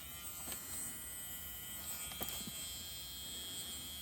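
A handheld rotary tool fitted with a burr bit grinds a 3D-printed rat demon lord figure. It gives a thin, steady high-pitched buzz throughout, with a couple of brief louder scrapes as the bit bites into the plastic.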